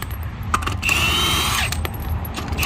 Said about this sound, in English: If you have a drill or impact, you can use a 21mm socket.